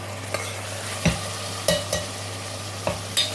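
Onions and tomatoes fry in a pan with a low, steady sizzle over a constant hum, punctuated by several sharp spatula scrapes and knocks against the metal at irregular intervals.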